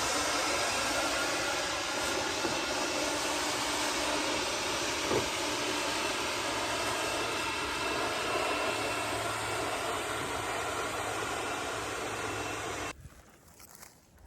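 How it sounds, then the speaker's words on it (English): A Harbor Freight 20-volt battery leaf blower clears leaves from gutters fitted with gutter guards, giving a loud, steady whooshing roar close by for about thirteen seconds before cutting off abruptly. "The final idea is a small blower from Harbor Freight with a 20-volt battery"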